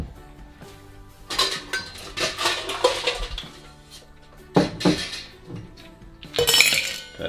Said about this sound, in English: get your tin shaker and put in 4 to 5 ice cubes